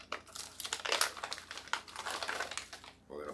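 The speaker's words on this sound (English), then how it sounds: "Let's open our 300cc O2 absorbers." A crinkly plastic package of 300cc oxygen absorbers is torn and pulled open, giving loud, close, dense crackling bursts that run nearly nonstop before a short lull and a final rustle.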